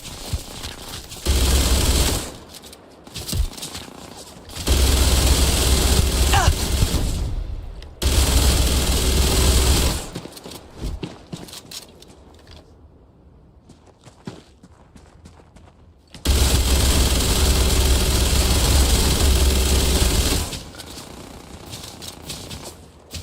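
Long bursts of automatic weapon fire in a Starfield firefight come in several sustained, loud stretches separated by quieter gaps with footsteps and movement.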